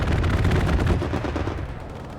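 Aircraft strafing run in the World War II shooter Hell Let Loose, a loud dense roar of rapid gunfire and impacts that fades slightly toward the end, no talk.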